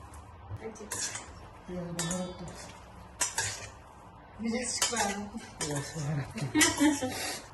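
A spoon scrapes and clinks against a bowl while mixing a chicken marinade, with a voice talking over the stirring in between.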